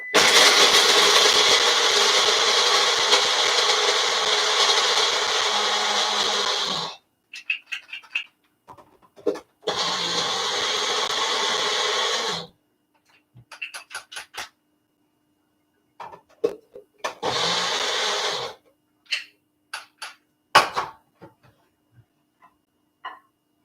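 Salted pecans crushed up by hand close by, with several long, rough grinding bursts alternating with pauses full of scattered sharp cracks and small clicking snaps.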